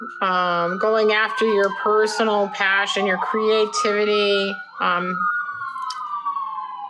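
A wailing siren sweeps up and down loudly beneath continuous talking, then fades into a long, slowly falling tone as it passes into the distance near a hospital.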